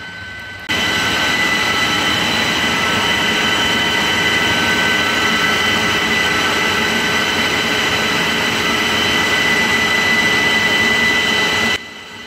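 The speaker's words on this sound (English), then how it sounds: "This is one large centrifugal compressor having platform and staircase on left side." A large industrial centrifugal compressor beside a platform and staircase runs with a loud, steady broadband drone and a constant whine layered through it, sustained without a break and with no voices.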